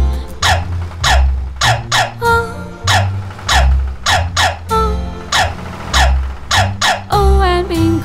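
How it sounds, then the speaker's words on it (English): Regular, punchy dog barks mark the beat of a farmer-and-dog nursery sing-along, loud and repeated between sung phrases over backing music. "There was a farmer had a dog and Pinko was his name"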